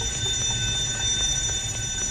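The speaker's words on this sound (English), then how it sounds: "a fire alarm goes off" A fire alarm going off inside a university building in the video game Gotham Knights: a steady, continuous electronic tone that holds at an even loudness over a low background rumble, with no voices.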